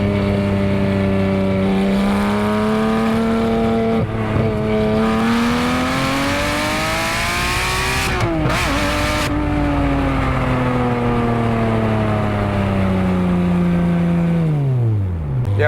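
Porsche 911R engine on a test drive, heard from inside the car as it pulls through the revs in rising sweeps, with shifts breaking the tone; it runs loud and close for the whole stretch, with no talk.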